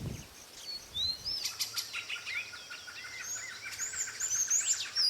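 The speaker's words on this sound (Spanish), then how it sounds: "Las aves pueden cantar en cualquier momento del día dependiendo de la especie" Several birds sing and chirp in bright, overlapping phrases, with repeated whistled notes and trills over a low steady background hum, moderately close and continuous throughout.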